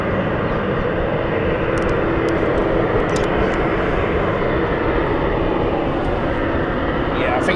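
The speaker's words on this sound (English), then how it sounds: "Do love Dash 8." A Dash 8 turboprop airliner at London City Airport produces a loud, steady, broadband engine roar that fills the whole stretch, with faint voices talking underneath.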